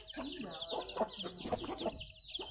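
Chickens clucking at a home yard while being fed at midday, a busy overlapping run of short clucks close by, with no talk.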